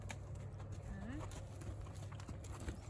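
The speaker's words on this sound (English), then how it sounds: "Indoor arena with a bunch of horses in there with me." Horses' hooves clip-clop on footing in an indoor riding arena with several horses nearby, a steady soft walking rhythm under faint background noise and a short squeak.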